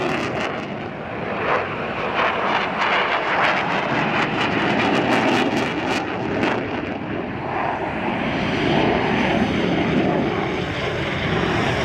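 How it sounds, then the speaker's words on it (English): Two fighter jets in a chase, one pursuing the other, make a loud, sustained roaring engine rush that stays steady and broad throughout, with no voices. "This fighter jet being chased by another fighter jet."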